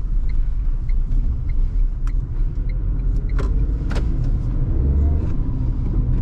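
A Tata Tiago NRG hatchback engine idles with a steady low rumble, a few faint clicks and taps above it, no voices.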